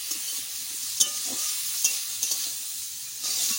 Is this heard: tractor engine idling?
no